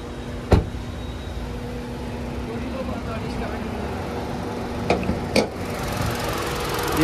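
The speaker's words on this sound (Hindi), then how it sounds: "इंजन नॉइस आप चेक कर सकते हैं, बहुत कम है, बहुत रिफाइंड इंजन आता है हुंडई का।" A Hyundai i20 Asta facelift's 1.2 litre Kappa petrol engine idles with a smooth, quiet, steady hum, broken by a few brief clicks and knocks.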